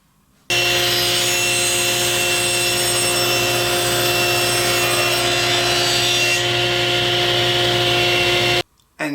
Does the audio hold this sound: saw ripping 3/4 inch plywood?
yes